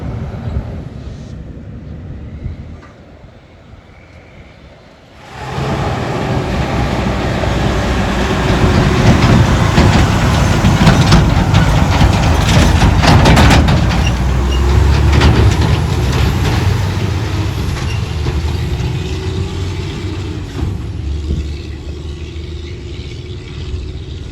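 After a quieter opening, a train roars past nearby, a loud sustained rumble with rattling wheels that stays strong for most of the clip.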